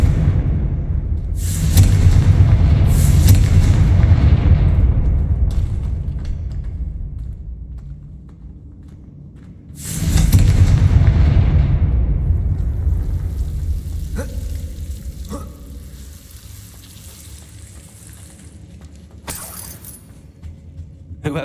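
Confringo fire spell blasts in Hogwarts Legacy, two heavy booming explosions with rumbling low-end decay, followed by quieter mechanical clinks and ambient game sounds.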